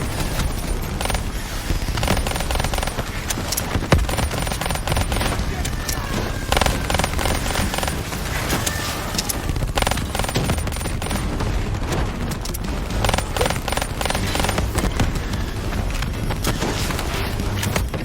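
Dense gunfire rages throughout a Call of Duty Black Ops III firefight against a Manticore, with rapid automatic bursts, booming impacts and splintering hits. Continuous and loud, with game voices speaking over the battle.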